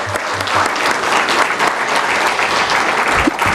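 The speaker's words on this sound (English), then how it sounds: "If we could give them a round of applause." Loud, steady clapping from a debate audience at the Pleasant Grove mayoral and city council debate, a continuous wash of applause lasting several seconds with no talking over it.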